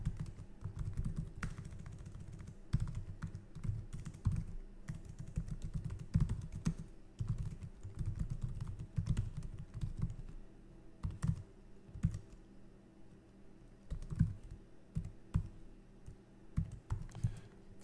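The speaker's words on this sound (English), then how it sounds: "So I'm just going to type this out and follow along." Steady typing on a computer keyboard, keys clicking in quick irregular bursts with brief pauses, close and fairly quiet, with no voices.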